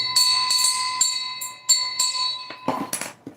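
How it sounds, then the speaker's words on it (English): A bright bell-like notification chime rings out in a quick run of ringing tones that overlap and decay, followed by a few softer clattering hits near the end. "hit this bell notification"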